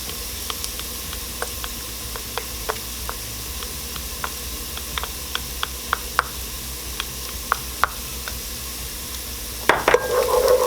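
Garlic dropped into softened onions sizzling in a pan over medium-low heat for a chickpea stew: a steady hiss with a regular tapping of a spoon stirring, and a brief louder clatter near the end.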